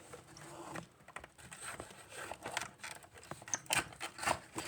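Toy mixer packaging being cut, likely with scissors, a run of soft close snips and rustling crinkles with no talking.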